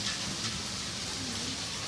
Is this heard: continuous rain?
yes